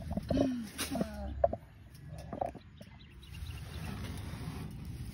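A chicken clucks several times in short bursts near the microphone, then quiets as a low background murmur continues.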